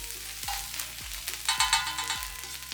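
Close-up sizzling of ginger garlic paste frying in a pan, punctuated by repeated low swooping thuds of stirring, with no talking.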